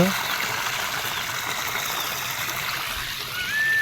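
Steady flowing river water rushing and trickling nearby in a forest setting, a continuous bright hiss that swells slightly toward the end.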